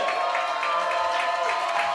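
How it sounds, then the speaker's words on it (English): A comedy club audience claps and cheers for a comedian in a continuous, fairly loud wash of applause mixed with crowd whoops and shouts, and a voice comes through now and then. "Keep clapping."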